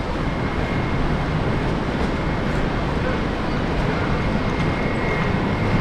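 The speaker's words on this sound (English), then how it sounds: "Another Qantas flight that has just arrived from New Zealand." A Qantas airliner, flight QF120 arriving from Auckland, rumbles steadily at Brisbane airport, a broad continuous roar that holds level for the whole stretch, with voices talking over it.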